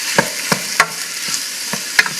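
Chopped food fries in a pan while a big spoon stirs it, giving a steady sizzle punctuated by about six sharp scraping clatters at irregular intervals, close and fairly loud, with no talking.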